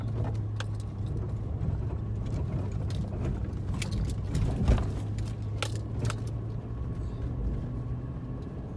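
A 2021 GMC 2500HD pickup with the 6.6 gas engine, hauling a fuel tank in the bed, crawls up a washed-out trail in two-wheel drive. A steady low engine drone is heard from inside the cab, with keys jangling and light rattles and clunks.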